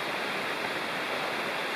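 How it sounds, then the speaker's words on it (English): Rocky Fork Creek flowing steadily along a backcountry hiking trail near the Appalachian Trail corridor, a close, loud and continuous rush of water with no breaks and no voices. "I'm hiking along the Rocky Fork Creek for about half a mile."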